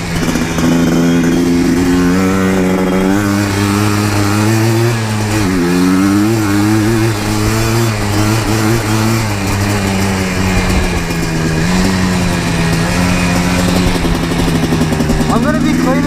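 A Yamaha Blaster 200 ATV's single-cylinder engine roars loud and close throughout a desert ride, its pitch rising and falling steadily as the throttle changes, with wind buffeting.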